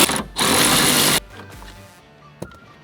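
A power tool with a 14mm socket spins out a seat bolt inside a 2022 Toyota Tundra Crewmax Hybrid cab: one loud, close buzzing whir lasting under a second, then a quieter rattle and a single small clack.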